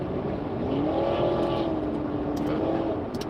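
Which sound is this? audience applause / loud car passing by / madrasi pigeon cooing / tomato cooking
loud car passing by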